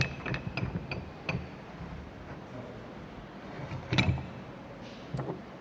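A shear testing machine mechanism in a materials testing lab being turned anti-clockwise: a series of faint, quiet ratcheting clicks and metallic creaks in an irregular rhythm, heard alone without speech.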